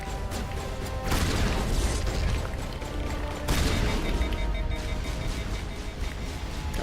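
A shotgun firing in the Mass Effect shooter amid heavy combat, loud booming blasts landing over a constant roar of gunfire and mechanical noise, with two especially strong hits standing out.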